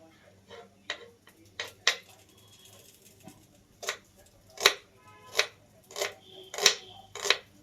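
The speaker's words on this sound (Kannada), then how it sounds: "ತುಂಬ ಸಣ್ಣದಾಗ ಕಟ್ ಮಾಡ್ಕೊತೀನಿ ಯಾಕಂದ್ರೆ ನನಗೆ ಈರುಳ್ಳಿ ದಪ್ಪ ದಪ್ಪಗೆ ತಿನ್ನೋಕ್ಕೆ ಇಷ್ಟನೇ ಇಲ್ಲ" Onion being finely chopped with a knife on a board: a dozen or so crisp, close taps, irregular at first and then steadier, with quiet pauses between strokes.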